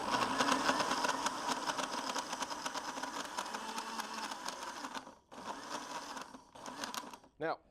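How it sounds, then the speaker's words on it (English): A countertop blender whirs through a melted ice cream shake, a loud steady motor roar for about five seconds, then sputtering cuts and short bursts as it stops and restarts. "let's go ahead and blend that up."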